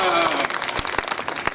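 Audience applause at a Hindi satire performance: a voice trails off at the start, then scattered clapping rises with a few sharper claps standing out.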